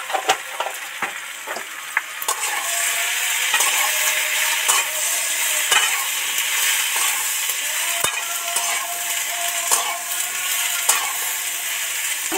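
Turmeric and chili powder fry in a pan with a little batasha sugar for an ol (elephant foot yam) curry. A loud, continuous sizzle runs under repeated scraping stir strokes and sharp metallic clanks of the utensil against the pan.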